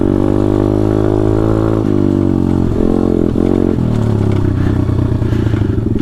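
A pit bike with broken, saggy, overly bouncy suspension runs loud and close, its engine droning steadily with a few clattering jolts and shifts in pitch as it rides over rough ground.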